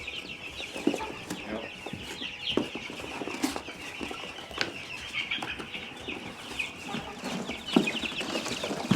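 Young American Bresse chicks in a brooder keep up a dense, continuous chorus of high peeping chirps, close by, with occasional wing flutters and scuffles mixed in.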